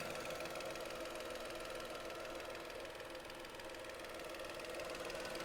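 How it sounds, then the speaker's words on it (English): A small 3-cylinder engine idles in a 2016 Renault Captur, giving a steady, even mechanical hum with a light ticking rattle that holds at constant loudness throughout, close to the engine bay, with no talking. "Now this is just a little 3-cylinder engine."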